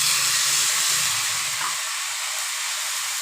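Grated ginger sizzles in a hot pan while plain khichuri is being cooked, giving a steady broadband frying hiss with a low bubbling rumble that fades after the first moment.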